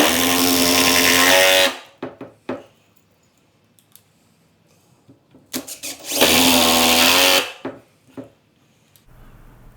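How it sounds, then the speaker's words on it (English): A power drill pre-drills holes in 2x4 wood blocks, running in two loud, steady bursts of under two seconds each, separated by quiet clicks and knocks of handling the wood. "I'm going to first pre-drill some holes in these 2x4s"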